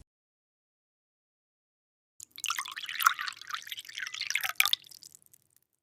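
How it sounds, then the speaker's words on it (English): A few drops of fish sauce are added to a flour batter, giving a short run of soft liquid patters and trickles after a stretch of silence. "Now put few drops of fish sauce."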